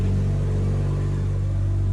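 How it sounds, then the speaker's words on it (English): A stationary BMW M140i Shadow Edition runs in sport mode, giving a steady, deep, close engine rumble that stays even throughout without revs or voices. "Now, while we've got the engine running,"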